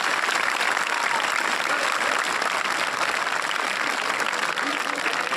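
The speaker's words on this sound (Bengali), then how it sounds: "সবাই একবার হাততালি দাও সবাই" Dense, steady applause from a large crowd at the opening of a school's annual sports competition, continuous and loud throughout without letup.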